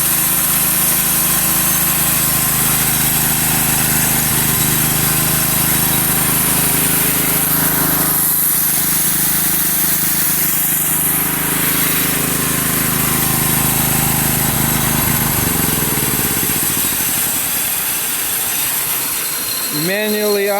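A custom-built portable sawmill with a John Deere engine runs steadily and loudly throughout, a dense mechanical drone with a brief dip midway and a rising whine as it revs near the end.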